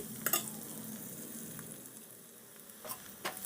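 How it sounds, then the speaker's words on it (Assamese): Crushed ginger and garlic fry in hot oil with a steady, close sizzle, broken by a few sharp scrapes of a utensil against the pan. "আৰু ইয়াৰো কেঁচা গোন্ধটো নোহোৱালৈকে মই ভাজি থাকিম"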